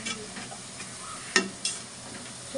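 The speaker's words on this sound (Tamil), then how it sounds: "வெங்காயத்தை வதக்கவும்" Onions fry in a pan for mutton biryani, giving a faint, steady sizzle with a couple of sharp clicks from stirring.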